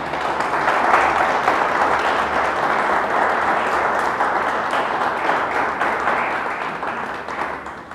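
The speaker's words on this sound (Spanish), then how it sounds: "¿Alguien le da un fuerte aplauso a Dios?" A church congregation bursts into sustained applause during a worship service, a dense, steady wash of many hands clapping at once that holds for several seconds and tapers slightly toward the end.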